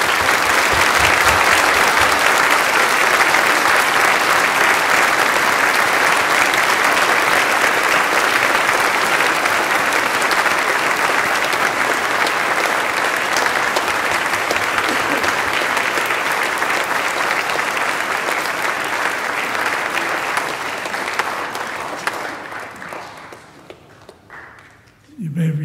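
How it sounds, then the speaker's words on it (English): Easter Vigil congregation in a Catholic church applauds the newly baptized, a loud, sustained roar of clapping that carries on for over twenty seconds before tapering off. "Let us all give the newly baptized a round of our applause."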